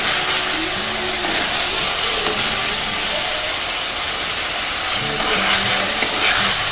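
Paneer and potato fry in hot spiced masala with a dense, steady sizzle, loud and close, broken now and then by faint stirring scrapes, with no talking.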